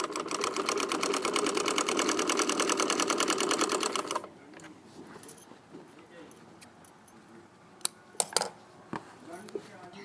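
A sewing machine runs steadily, stitching a fabric yoke with buckram, a dense rapid mechanical whir for about four seconds before stopping; afterward come quiet handling noises and a few sharp clicks.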